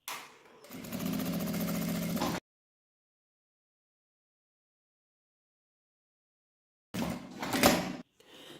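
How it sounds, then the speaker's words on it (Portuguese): A sewing machine stitches a seam all around an accordion-style fabric wallet, running in a steady mechanical whir for a couple of seconds, falling silent, then giving a second short busy burst of stitching. "Uma costura com um pé de máquina em toda a volta."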